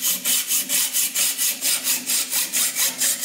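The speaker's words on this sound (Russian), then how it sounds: "Дальше пилить." A handsaw cuts a workpiece clamped in a lathe used as a vise, with about thirteen even back-and-forth strokes in a steady quick rhythm, close and clear, and no talk.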